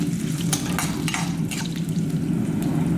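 Spices tempering in hot oil for a ridge gourd chutney, a steady close sizzle and crackle with a few sharper pops and stirring scrapes.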